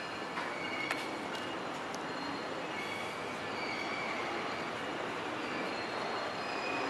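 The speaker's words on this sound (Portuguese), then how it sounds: "E lá vem a locomotiva novamente" A locomotive rolls along rails at a CPTM rail line, a steady rumble with faint wheel squeal, heard from a distance and fairly quiet throughout.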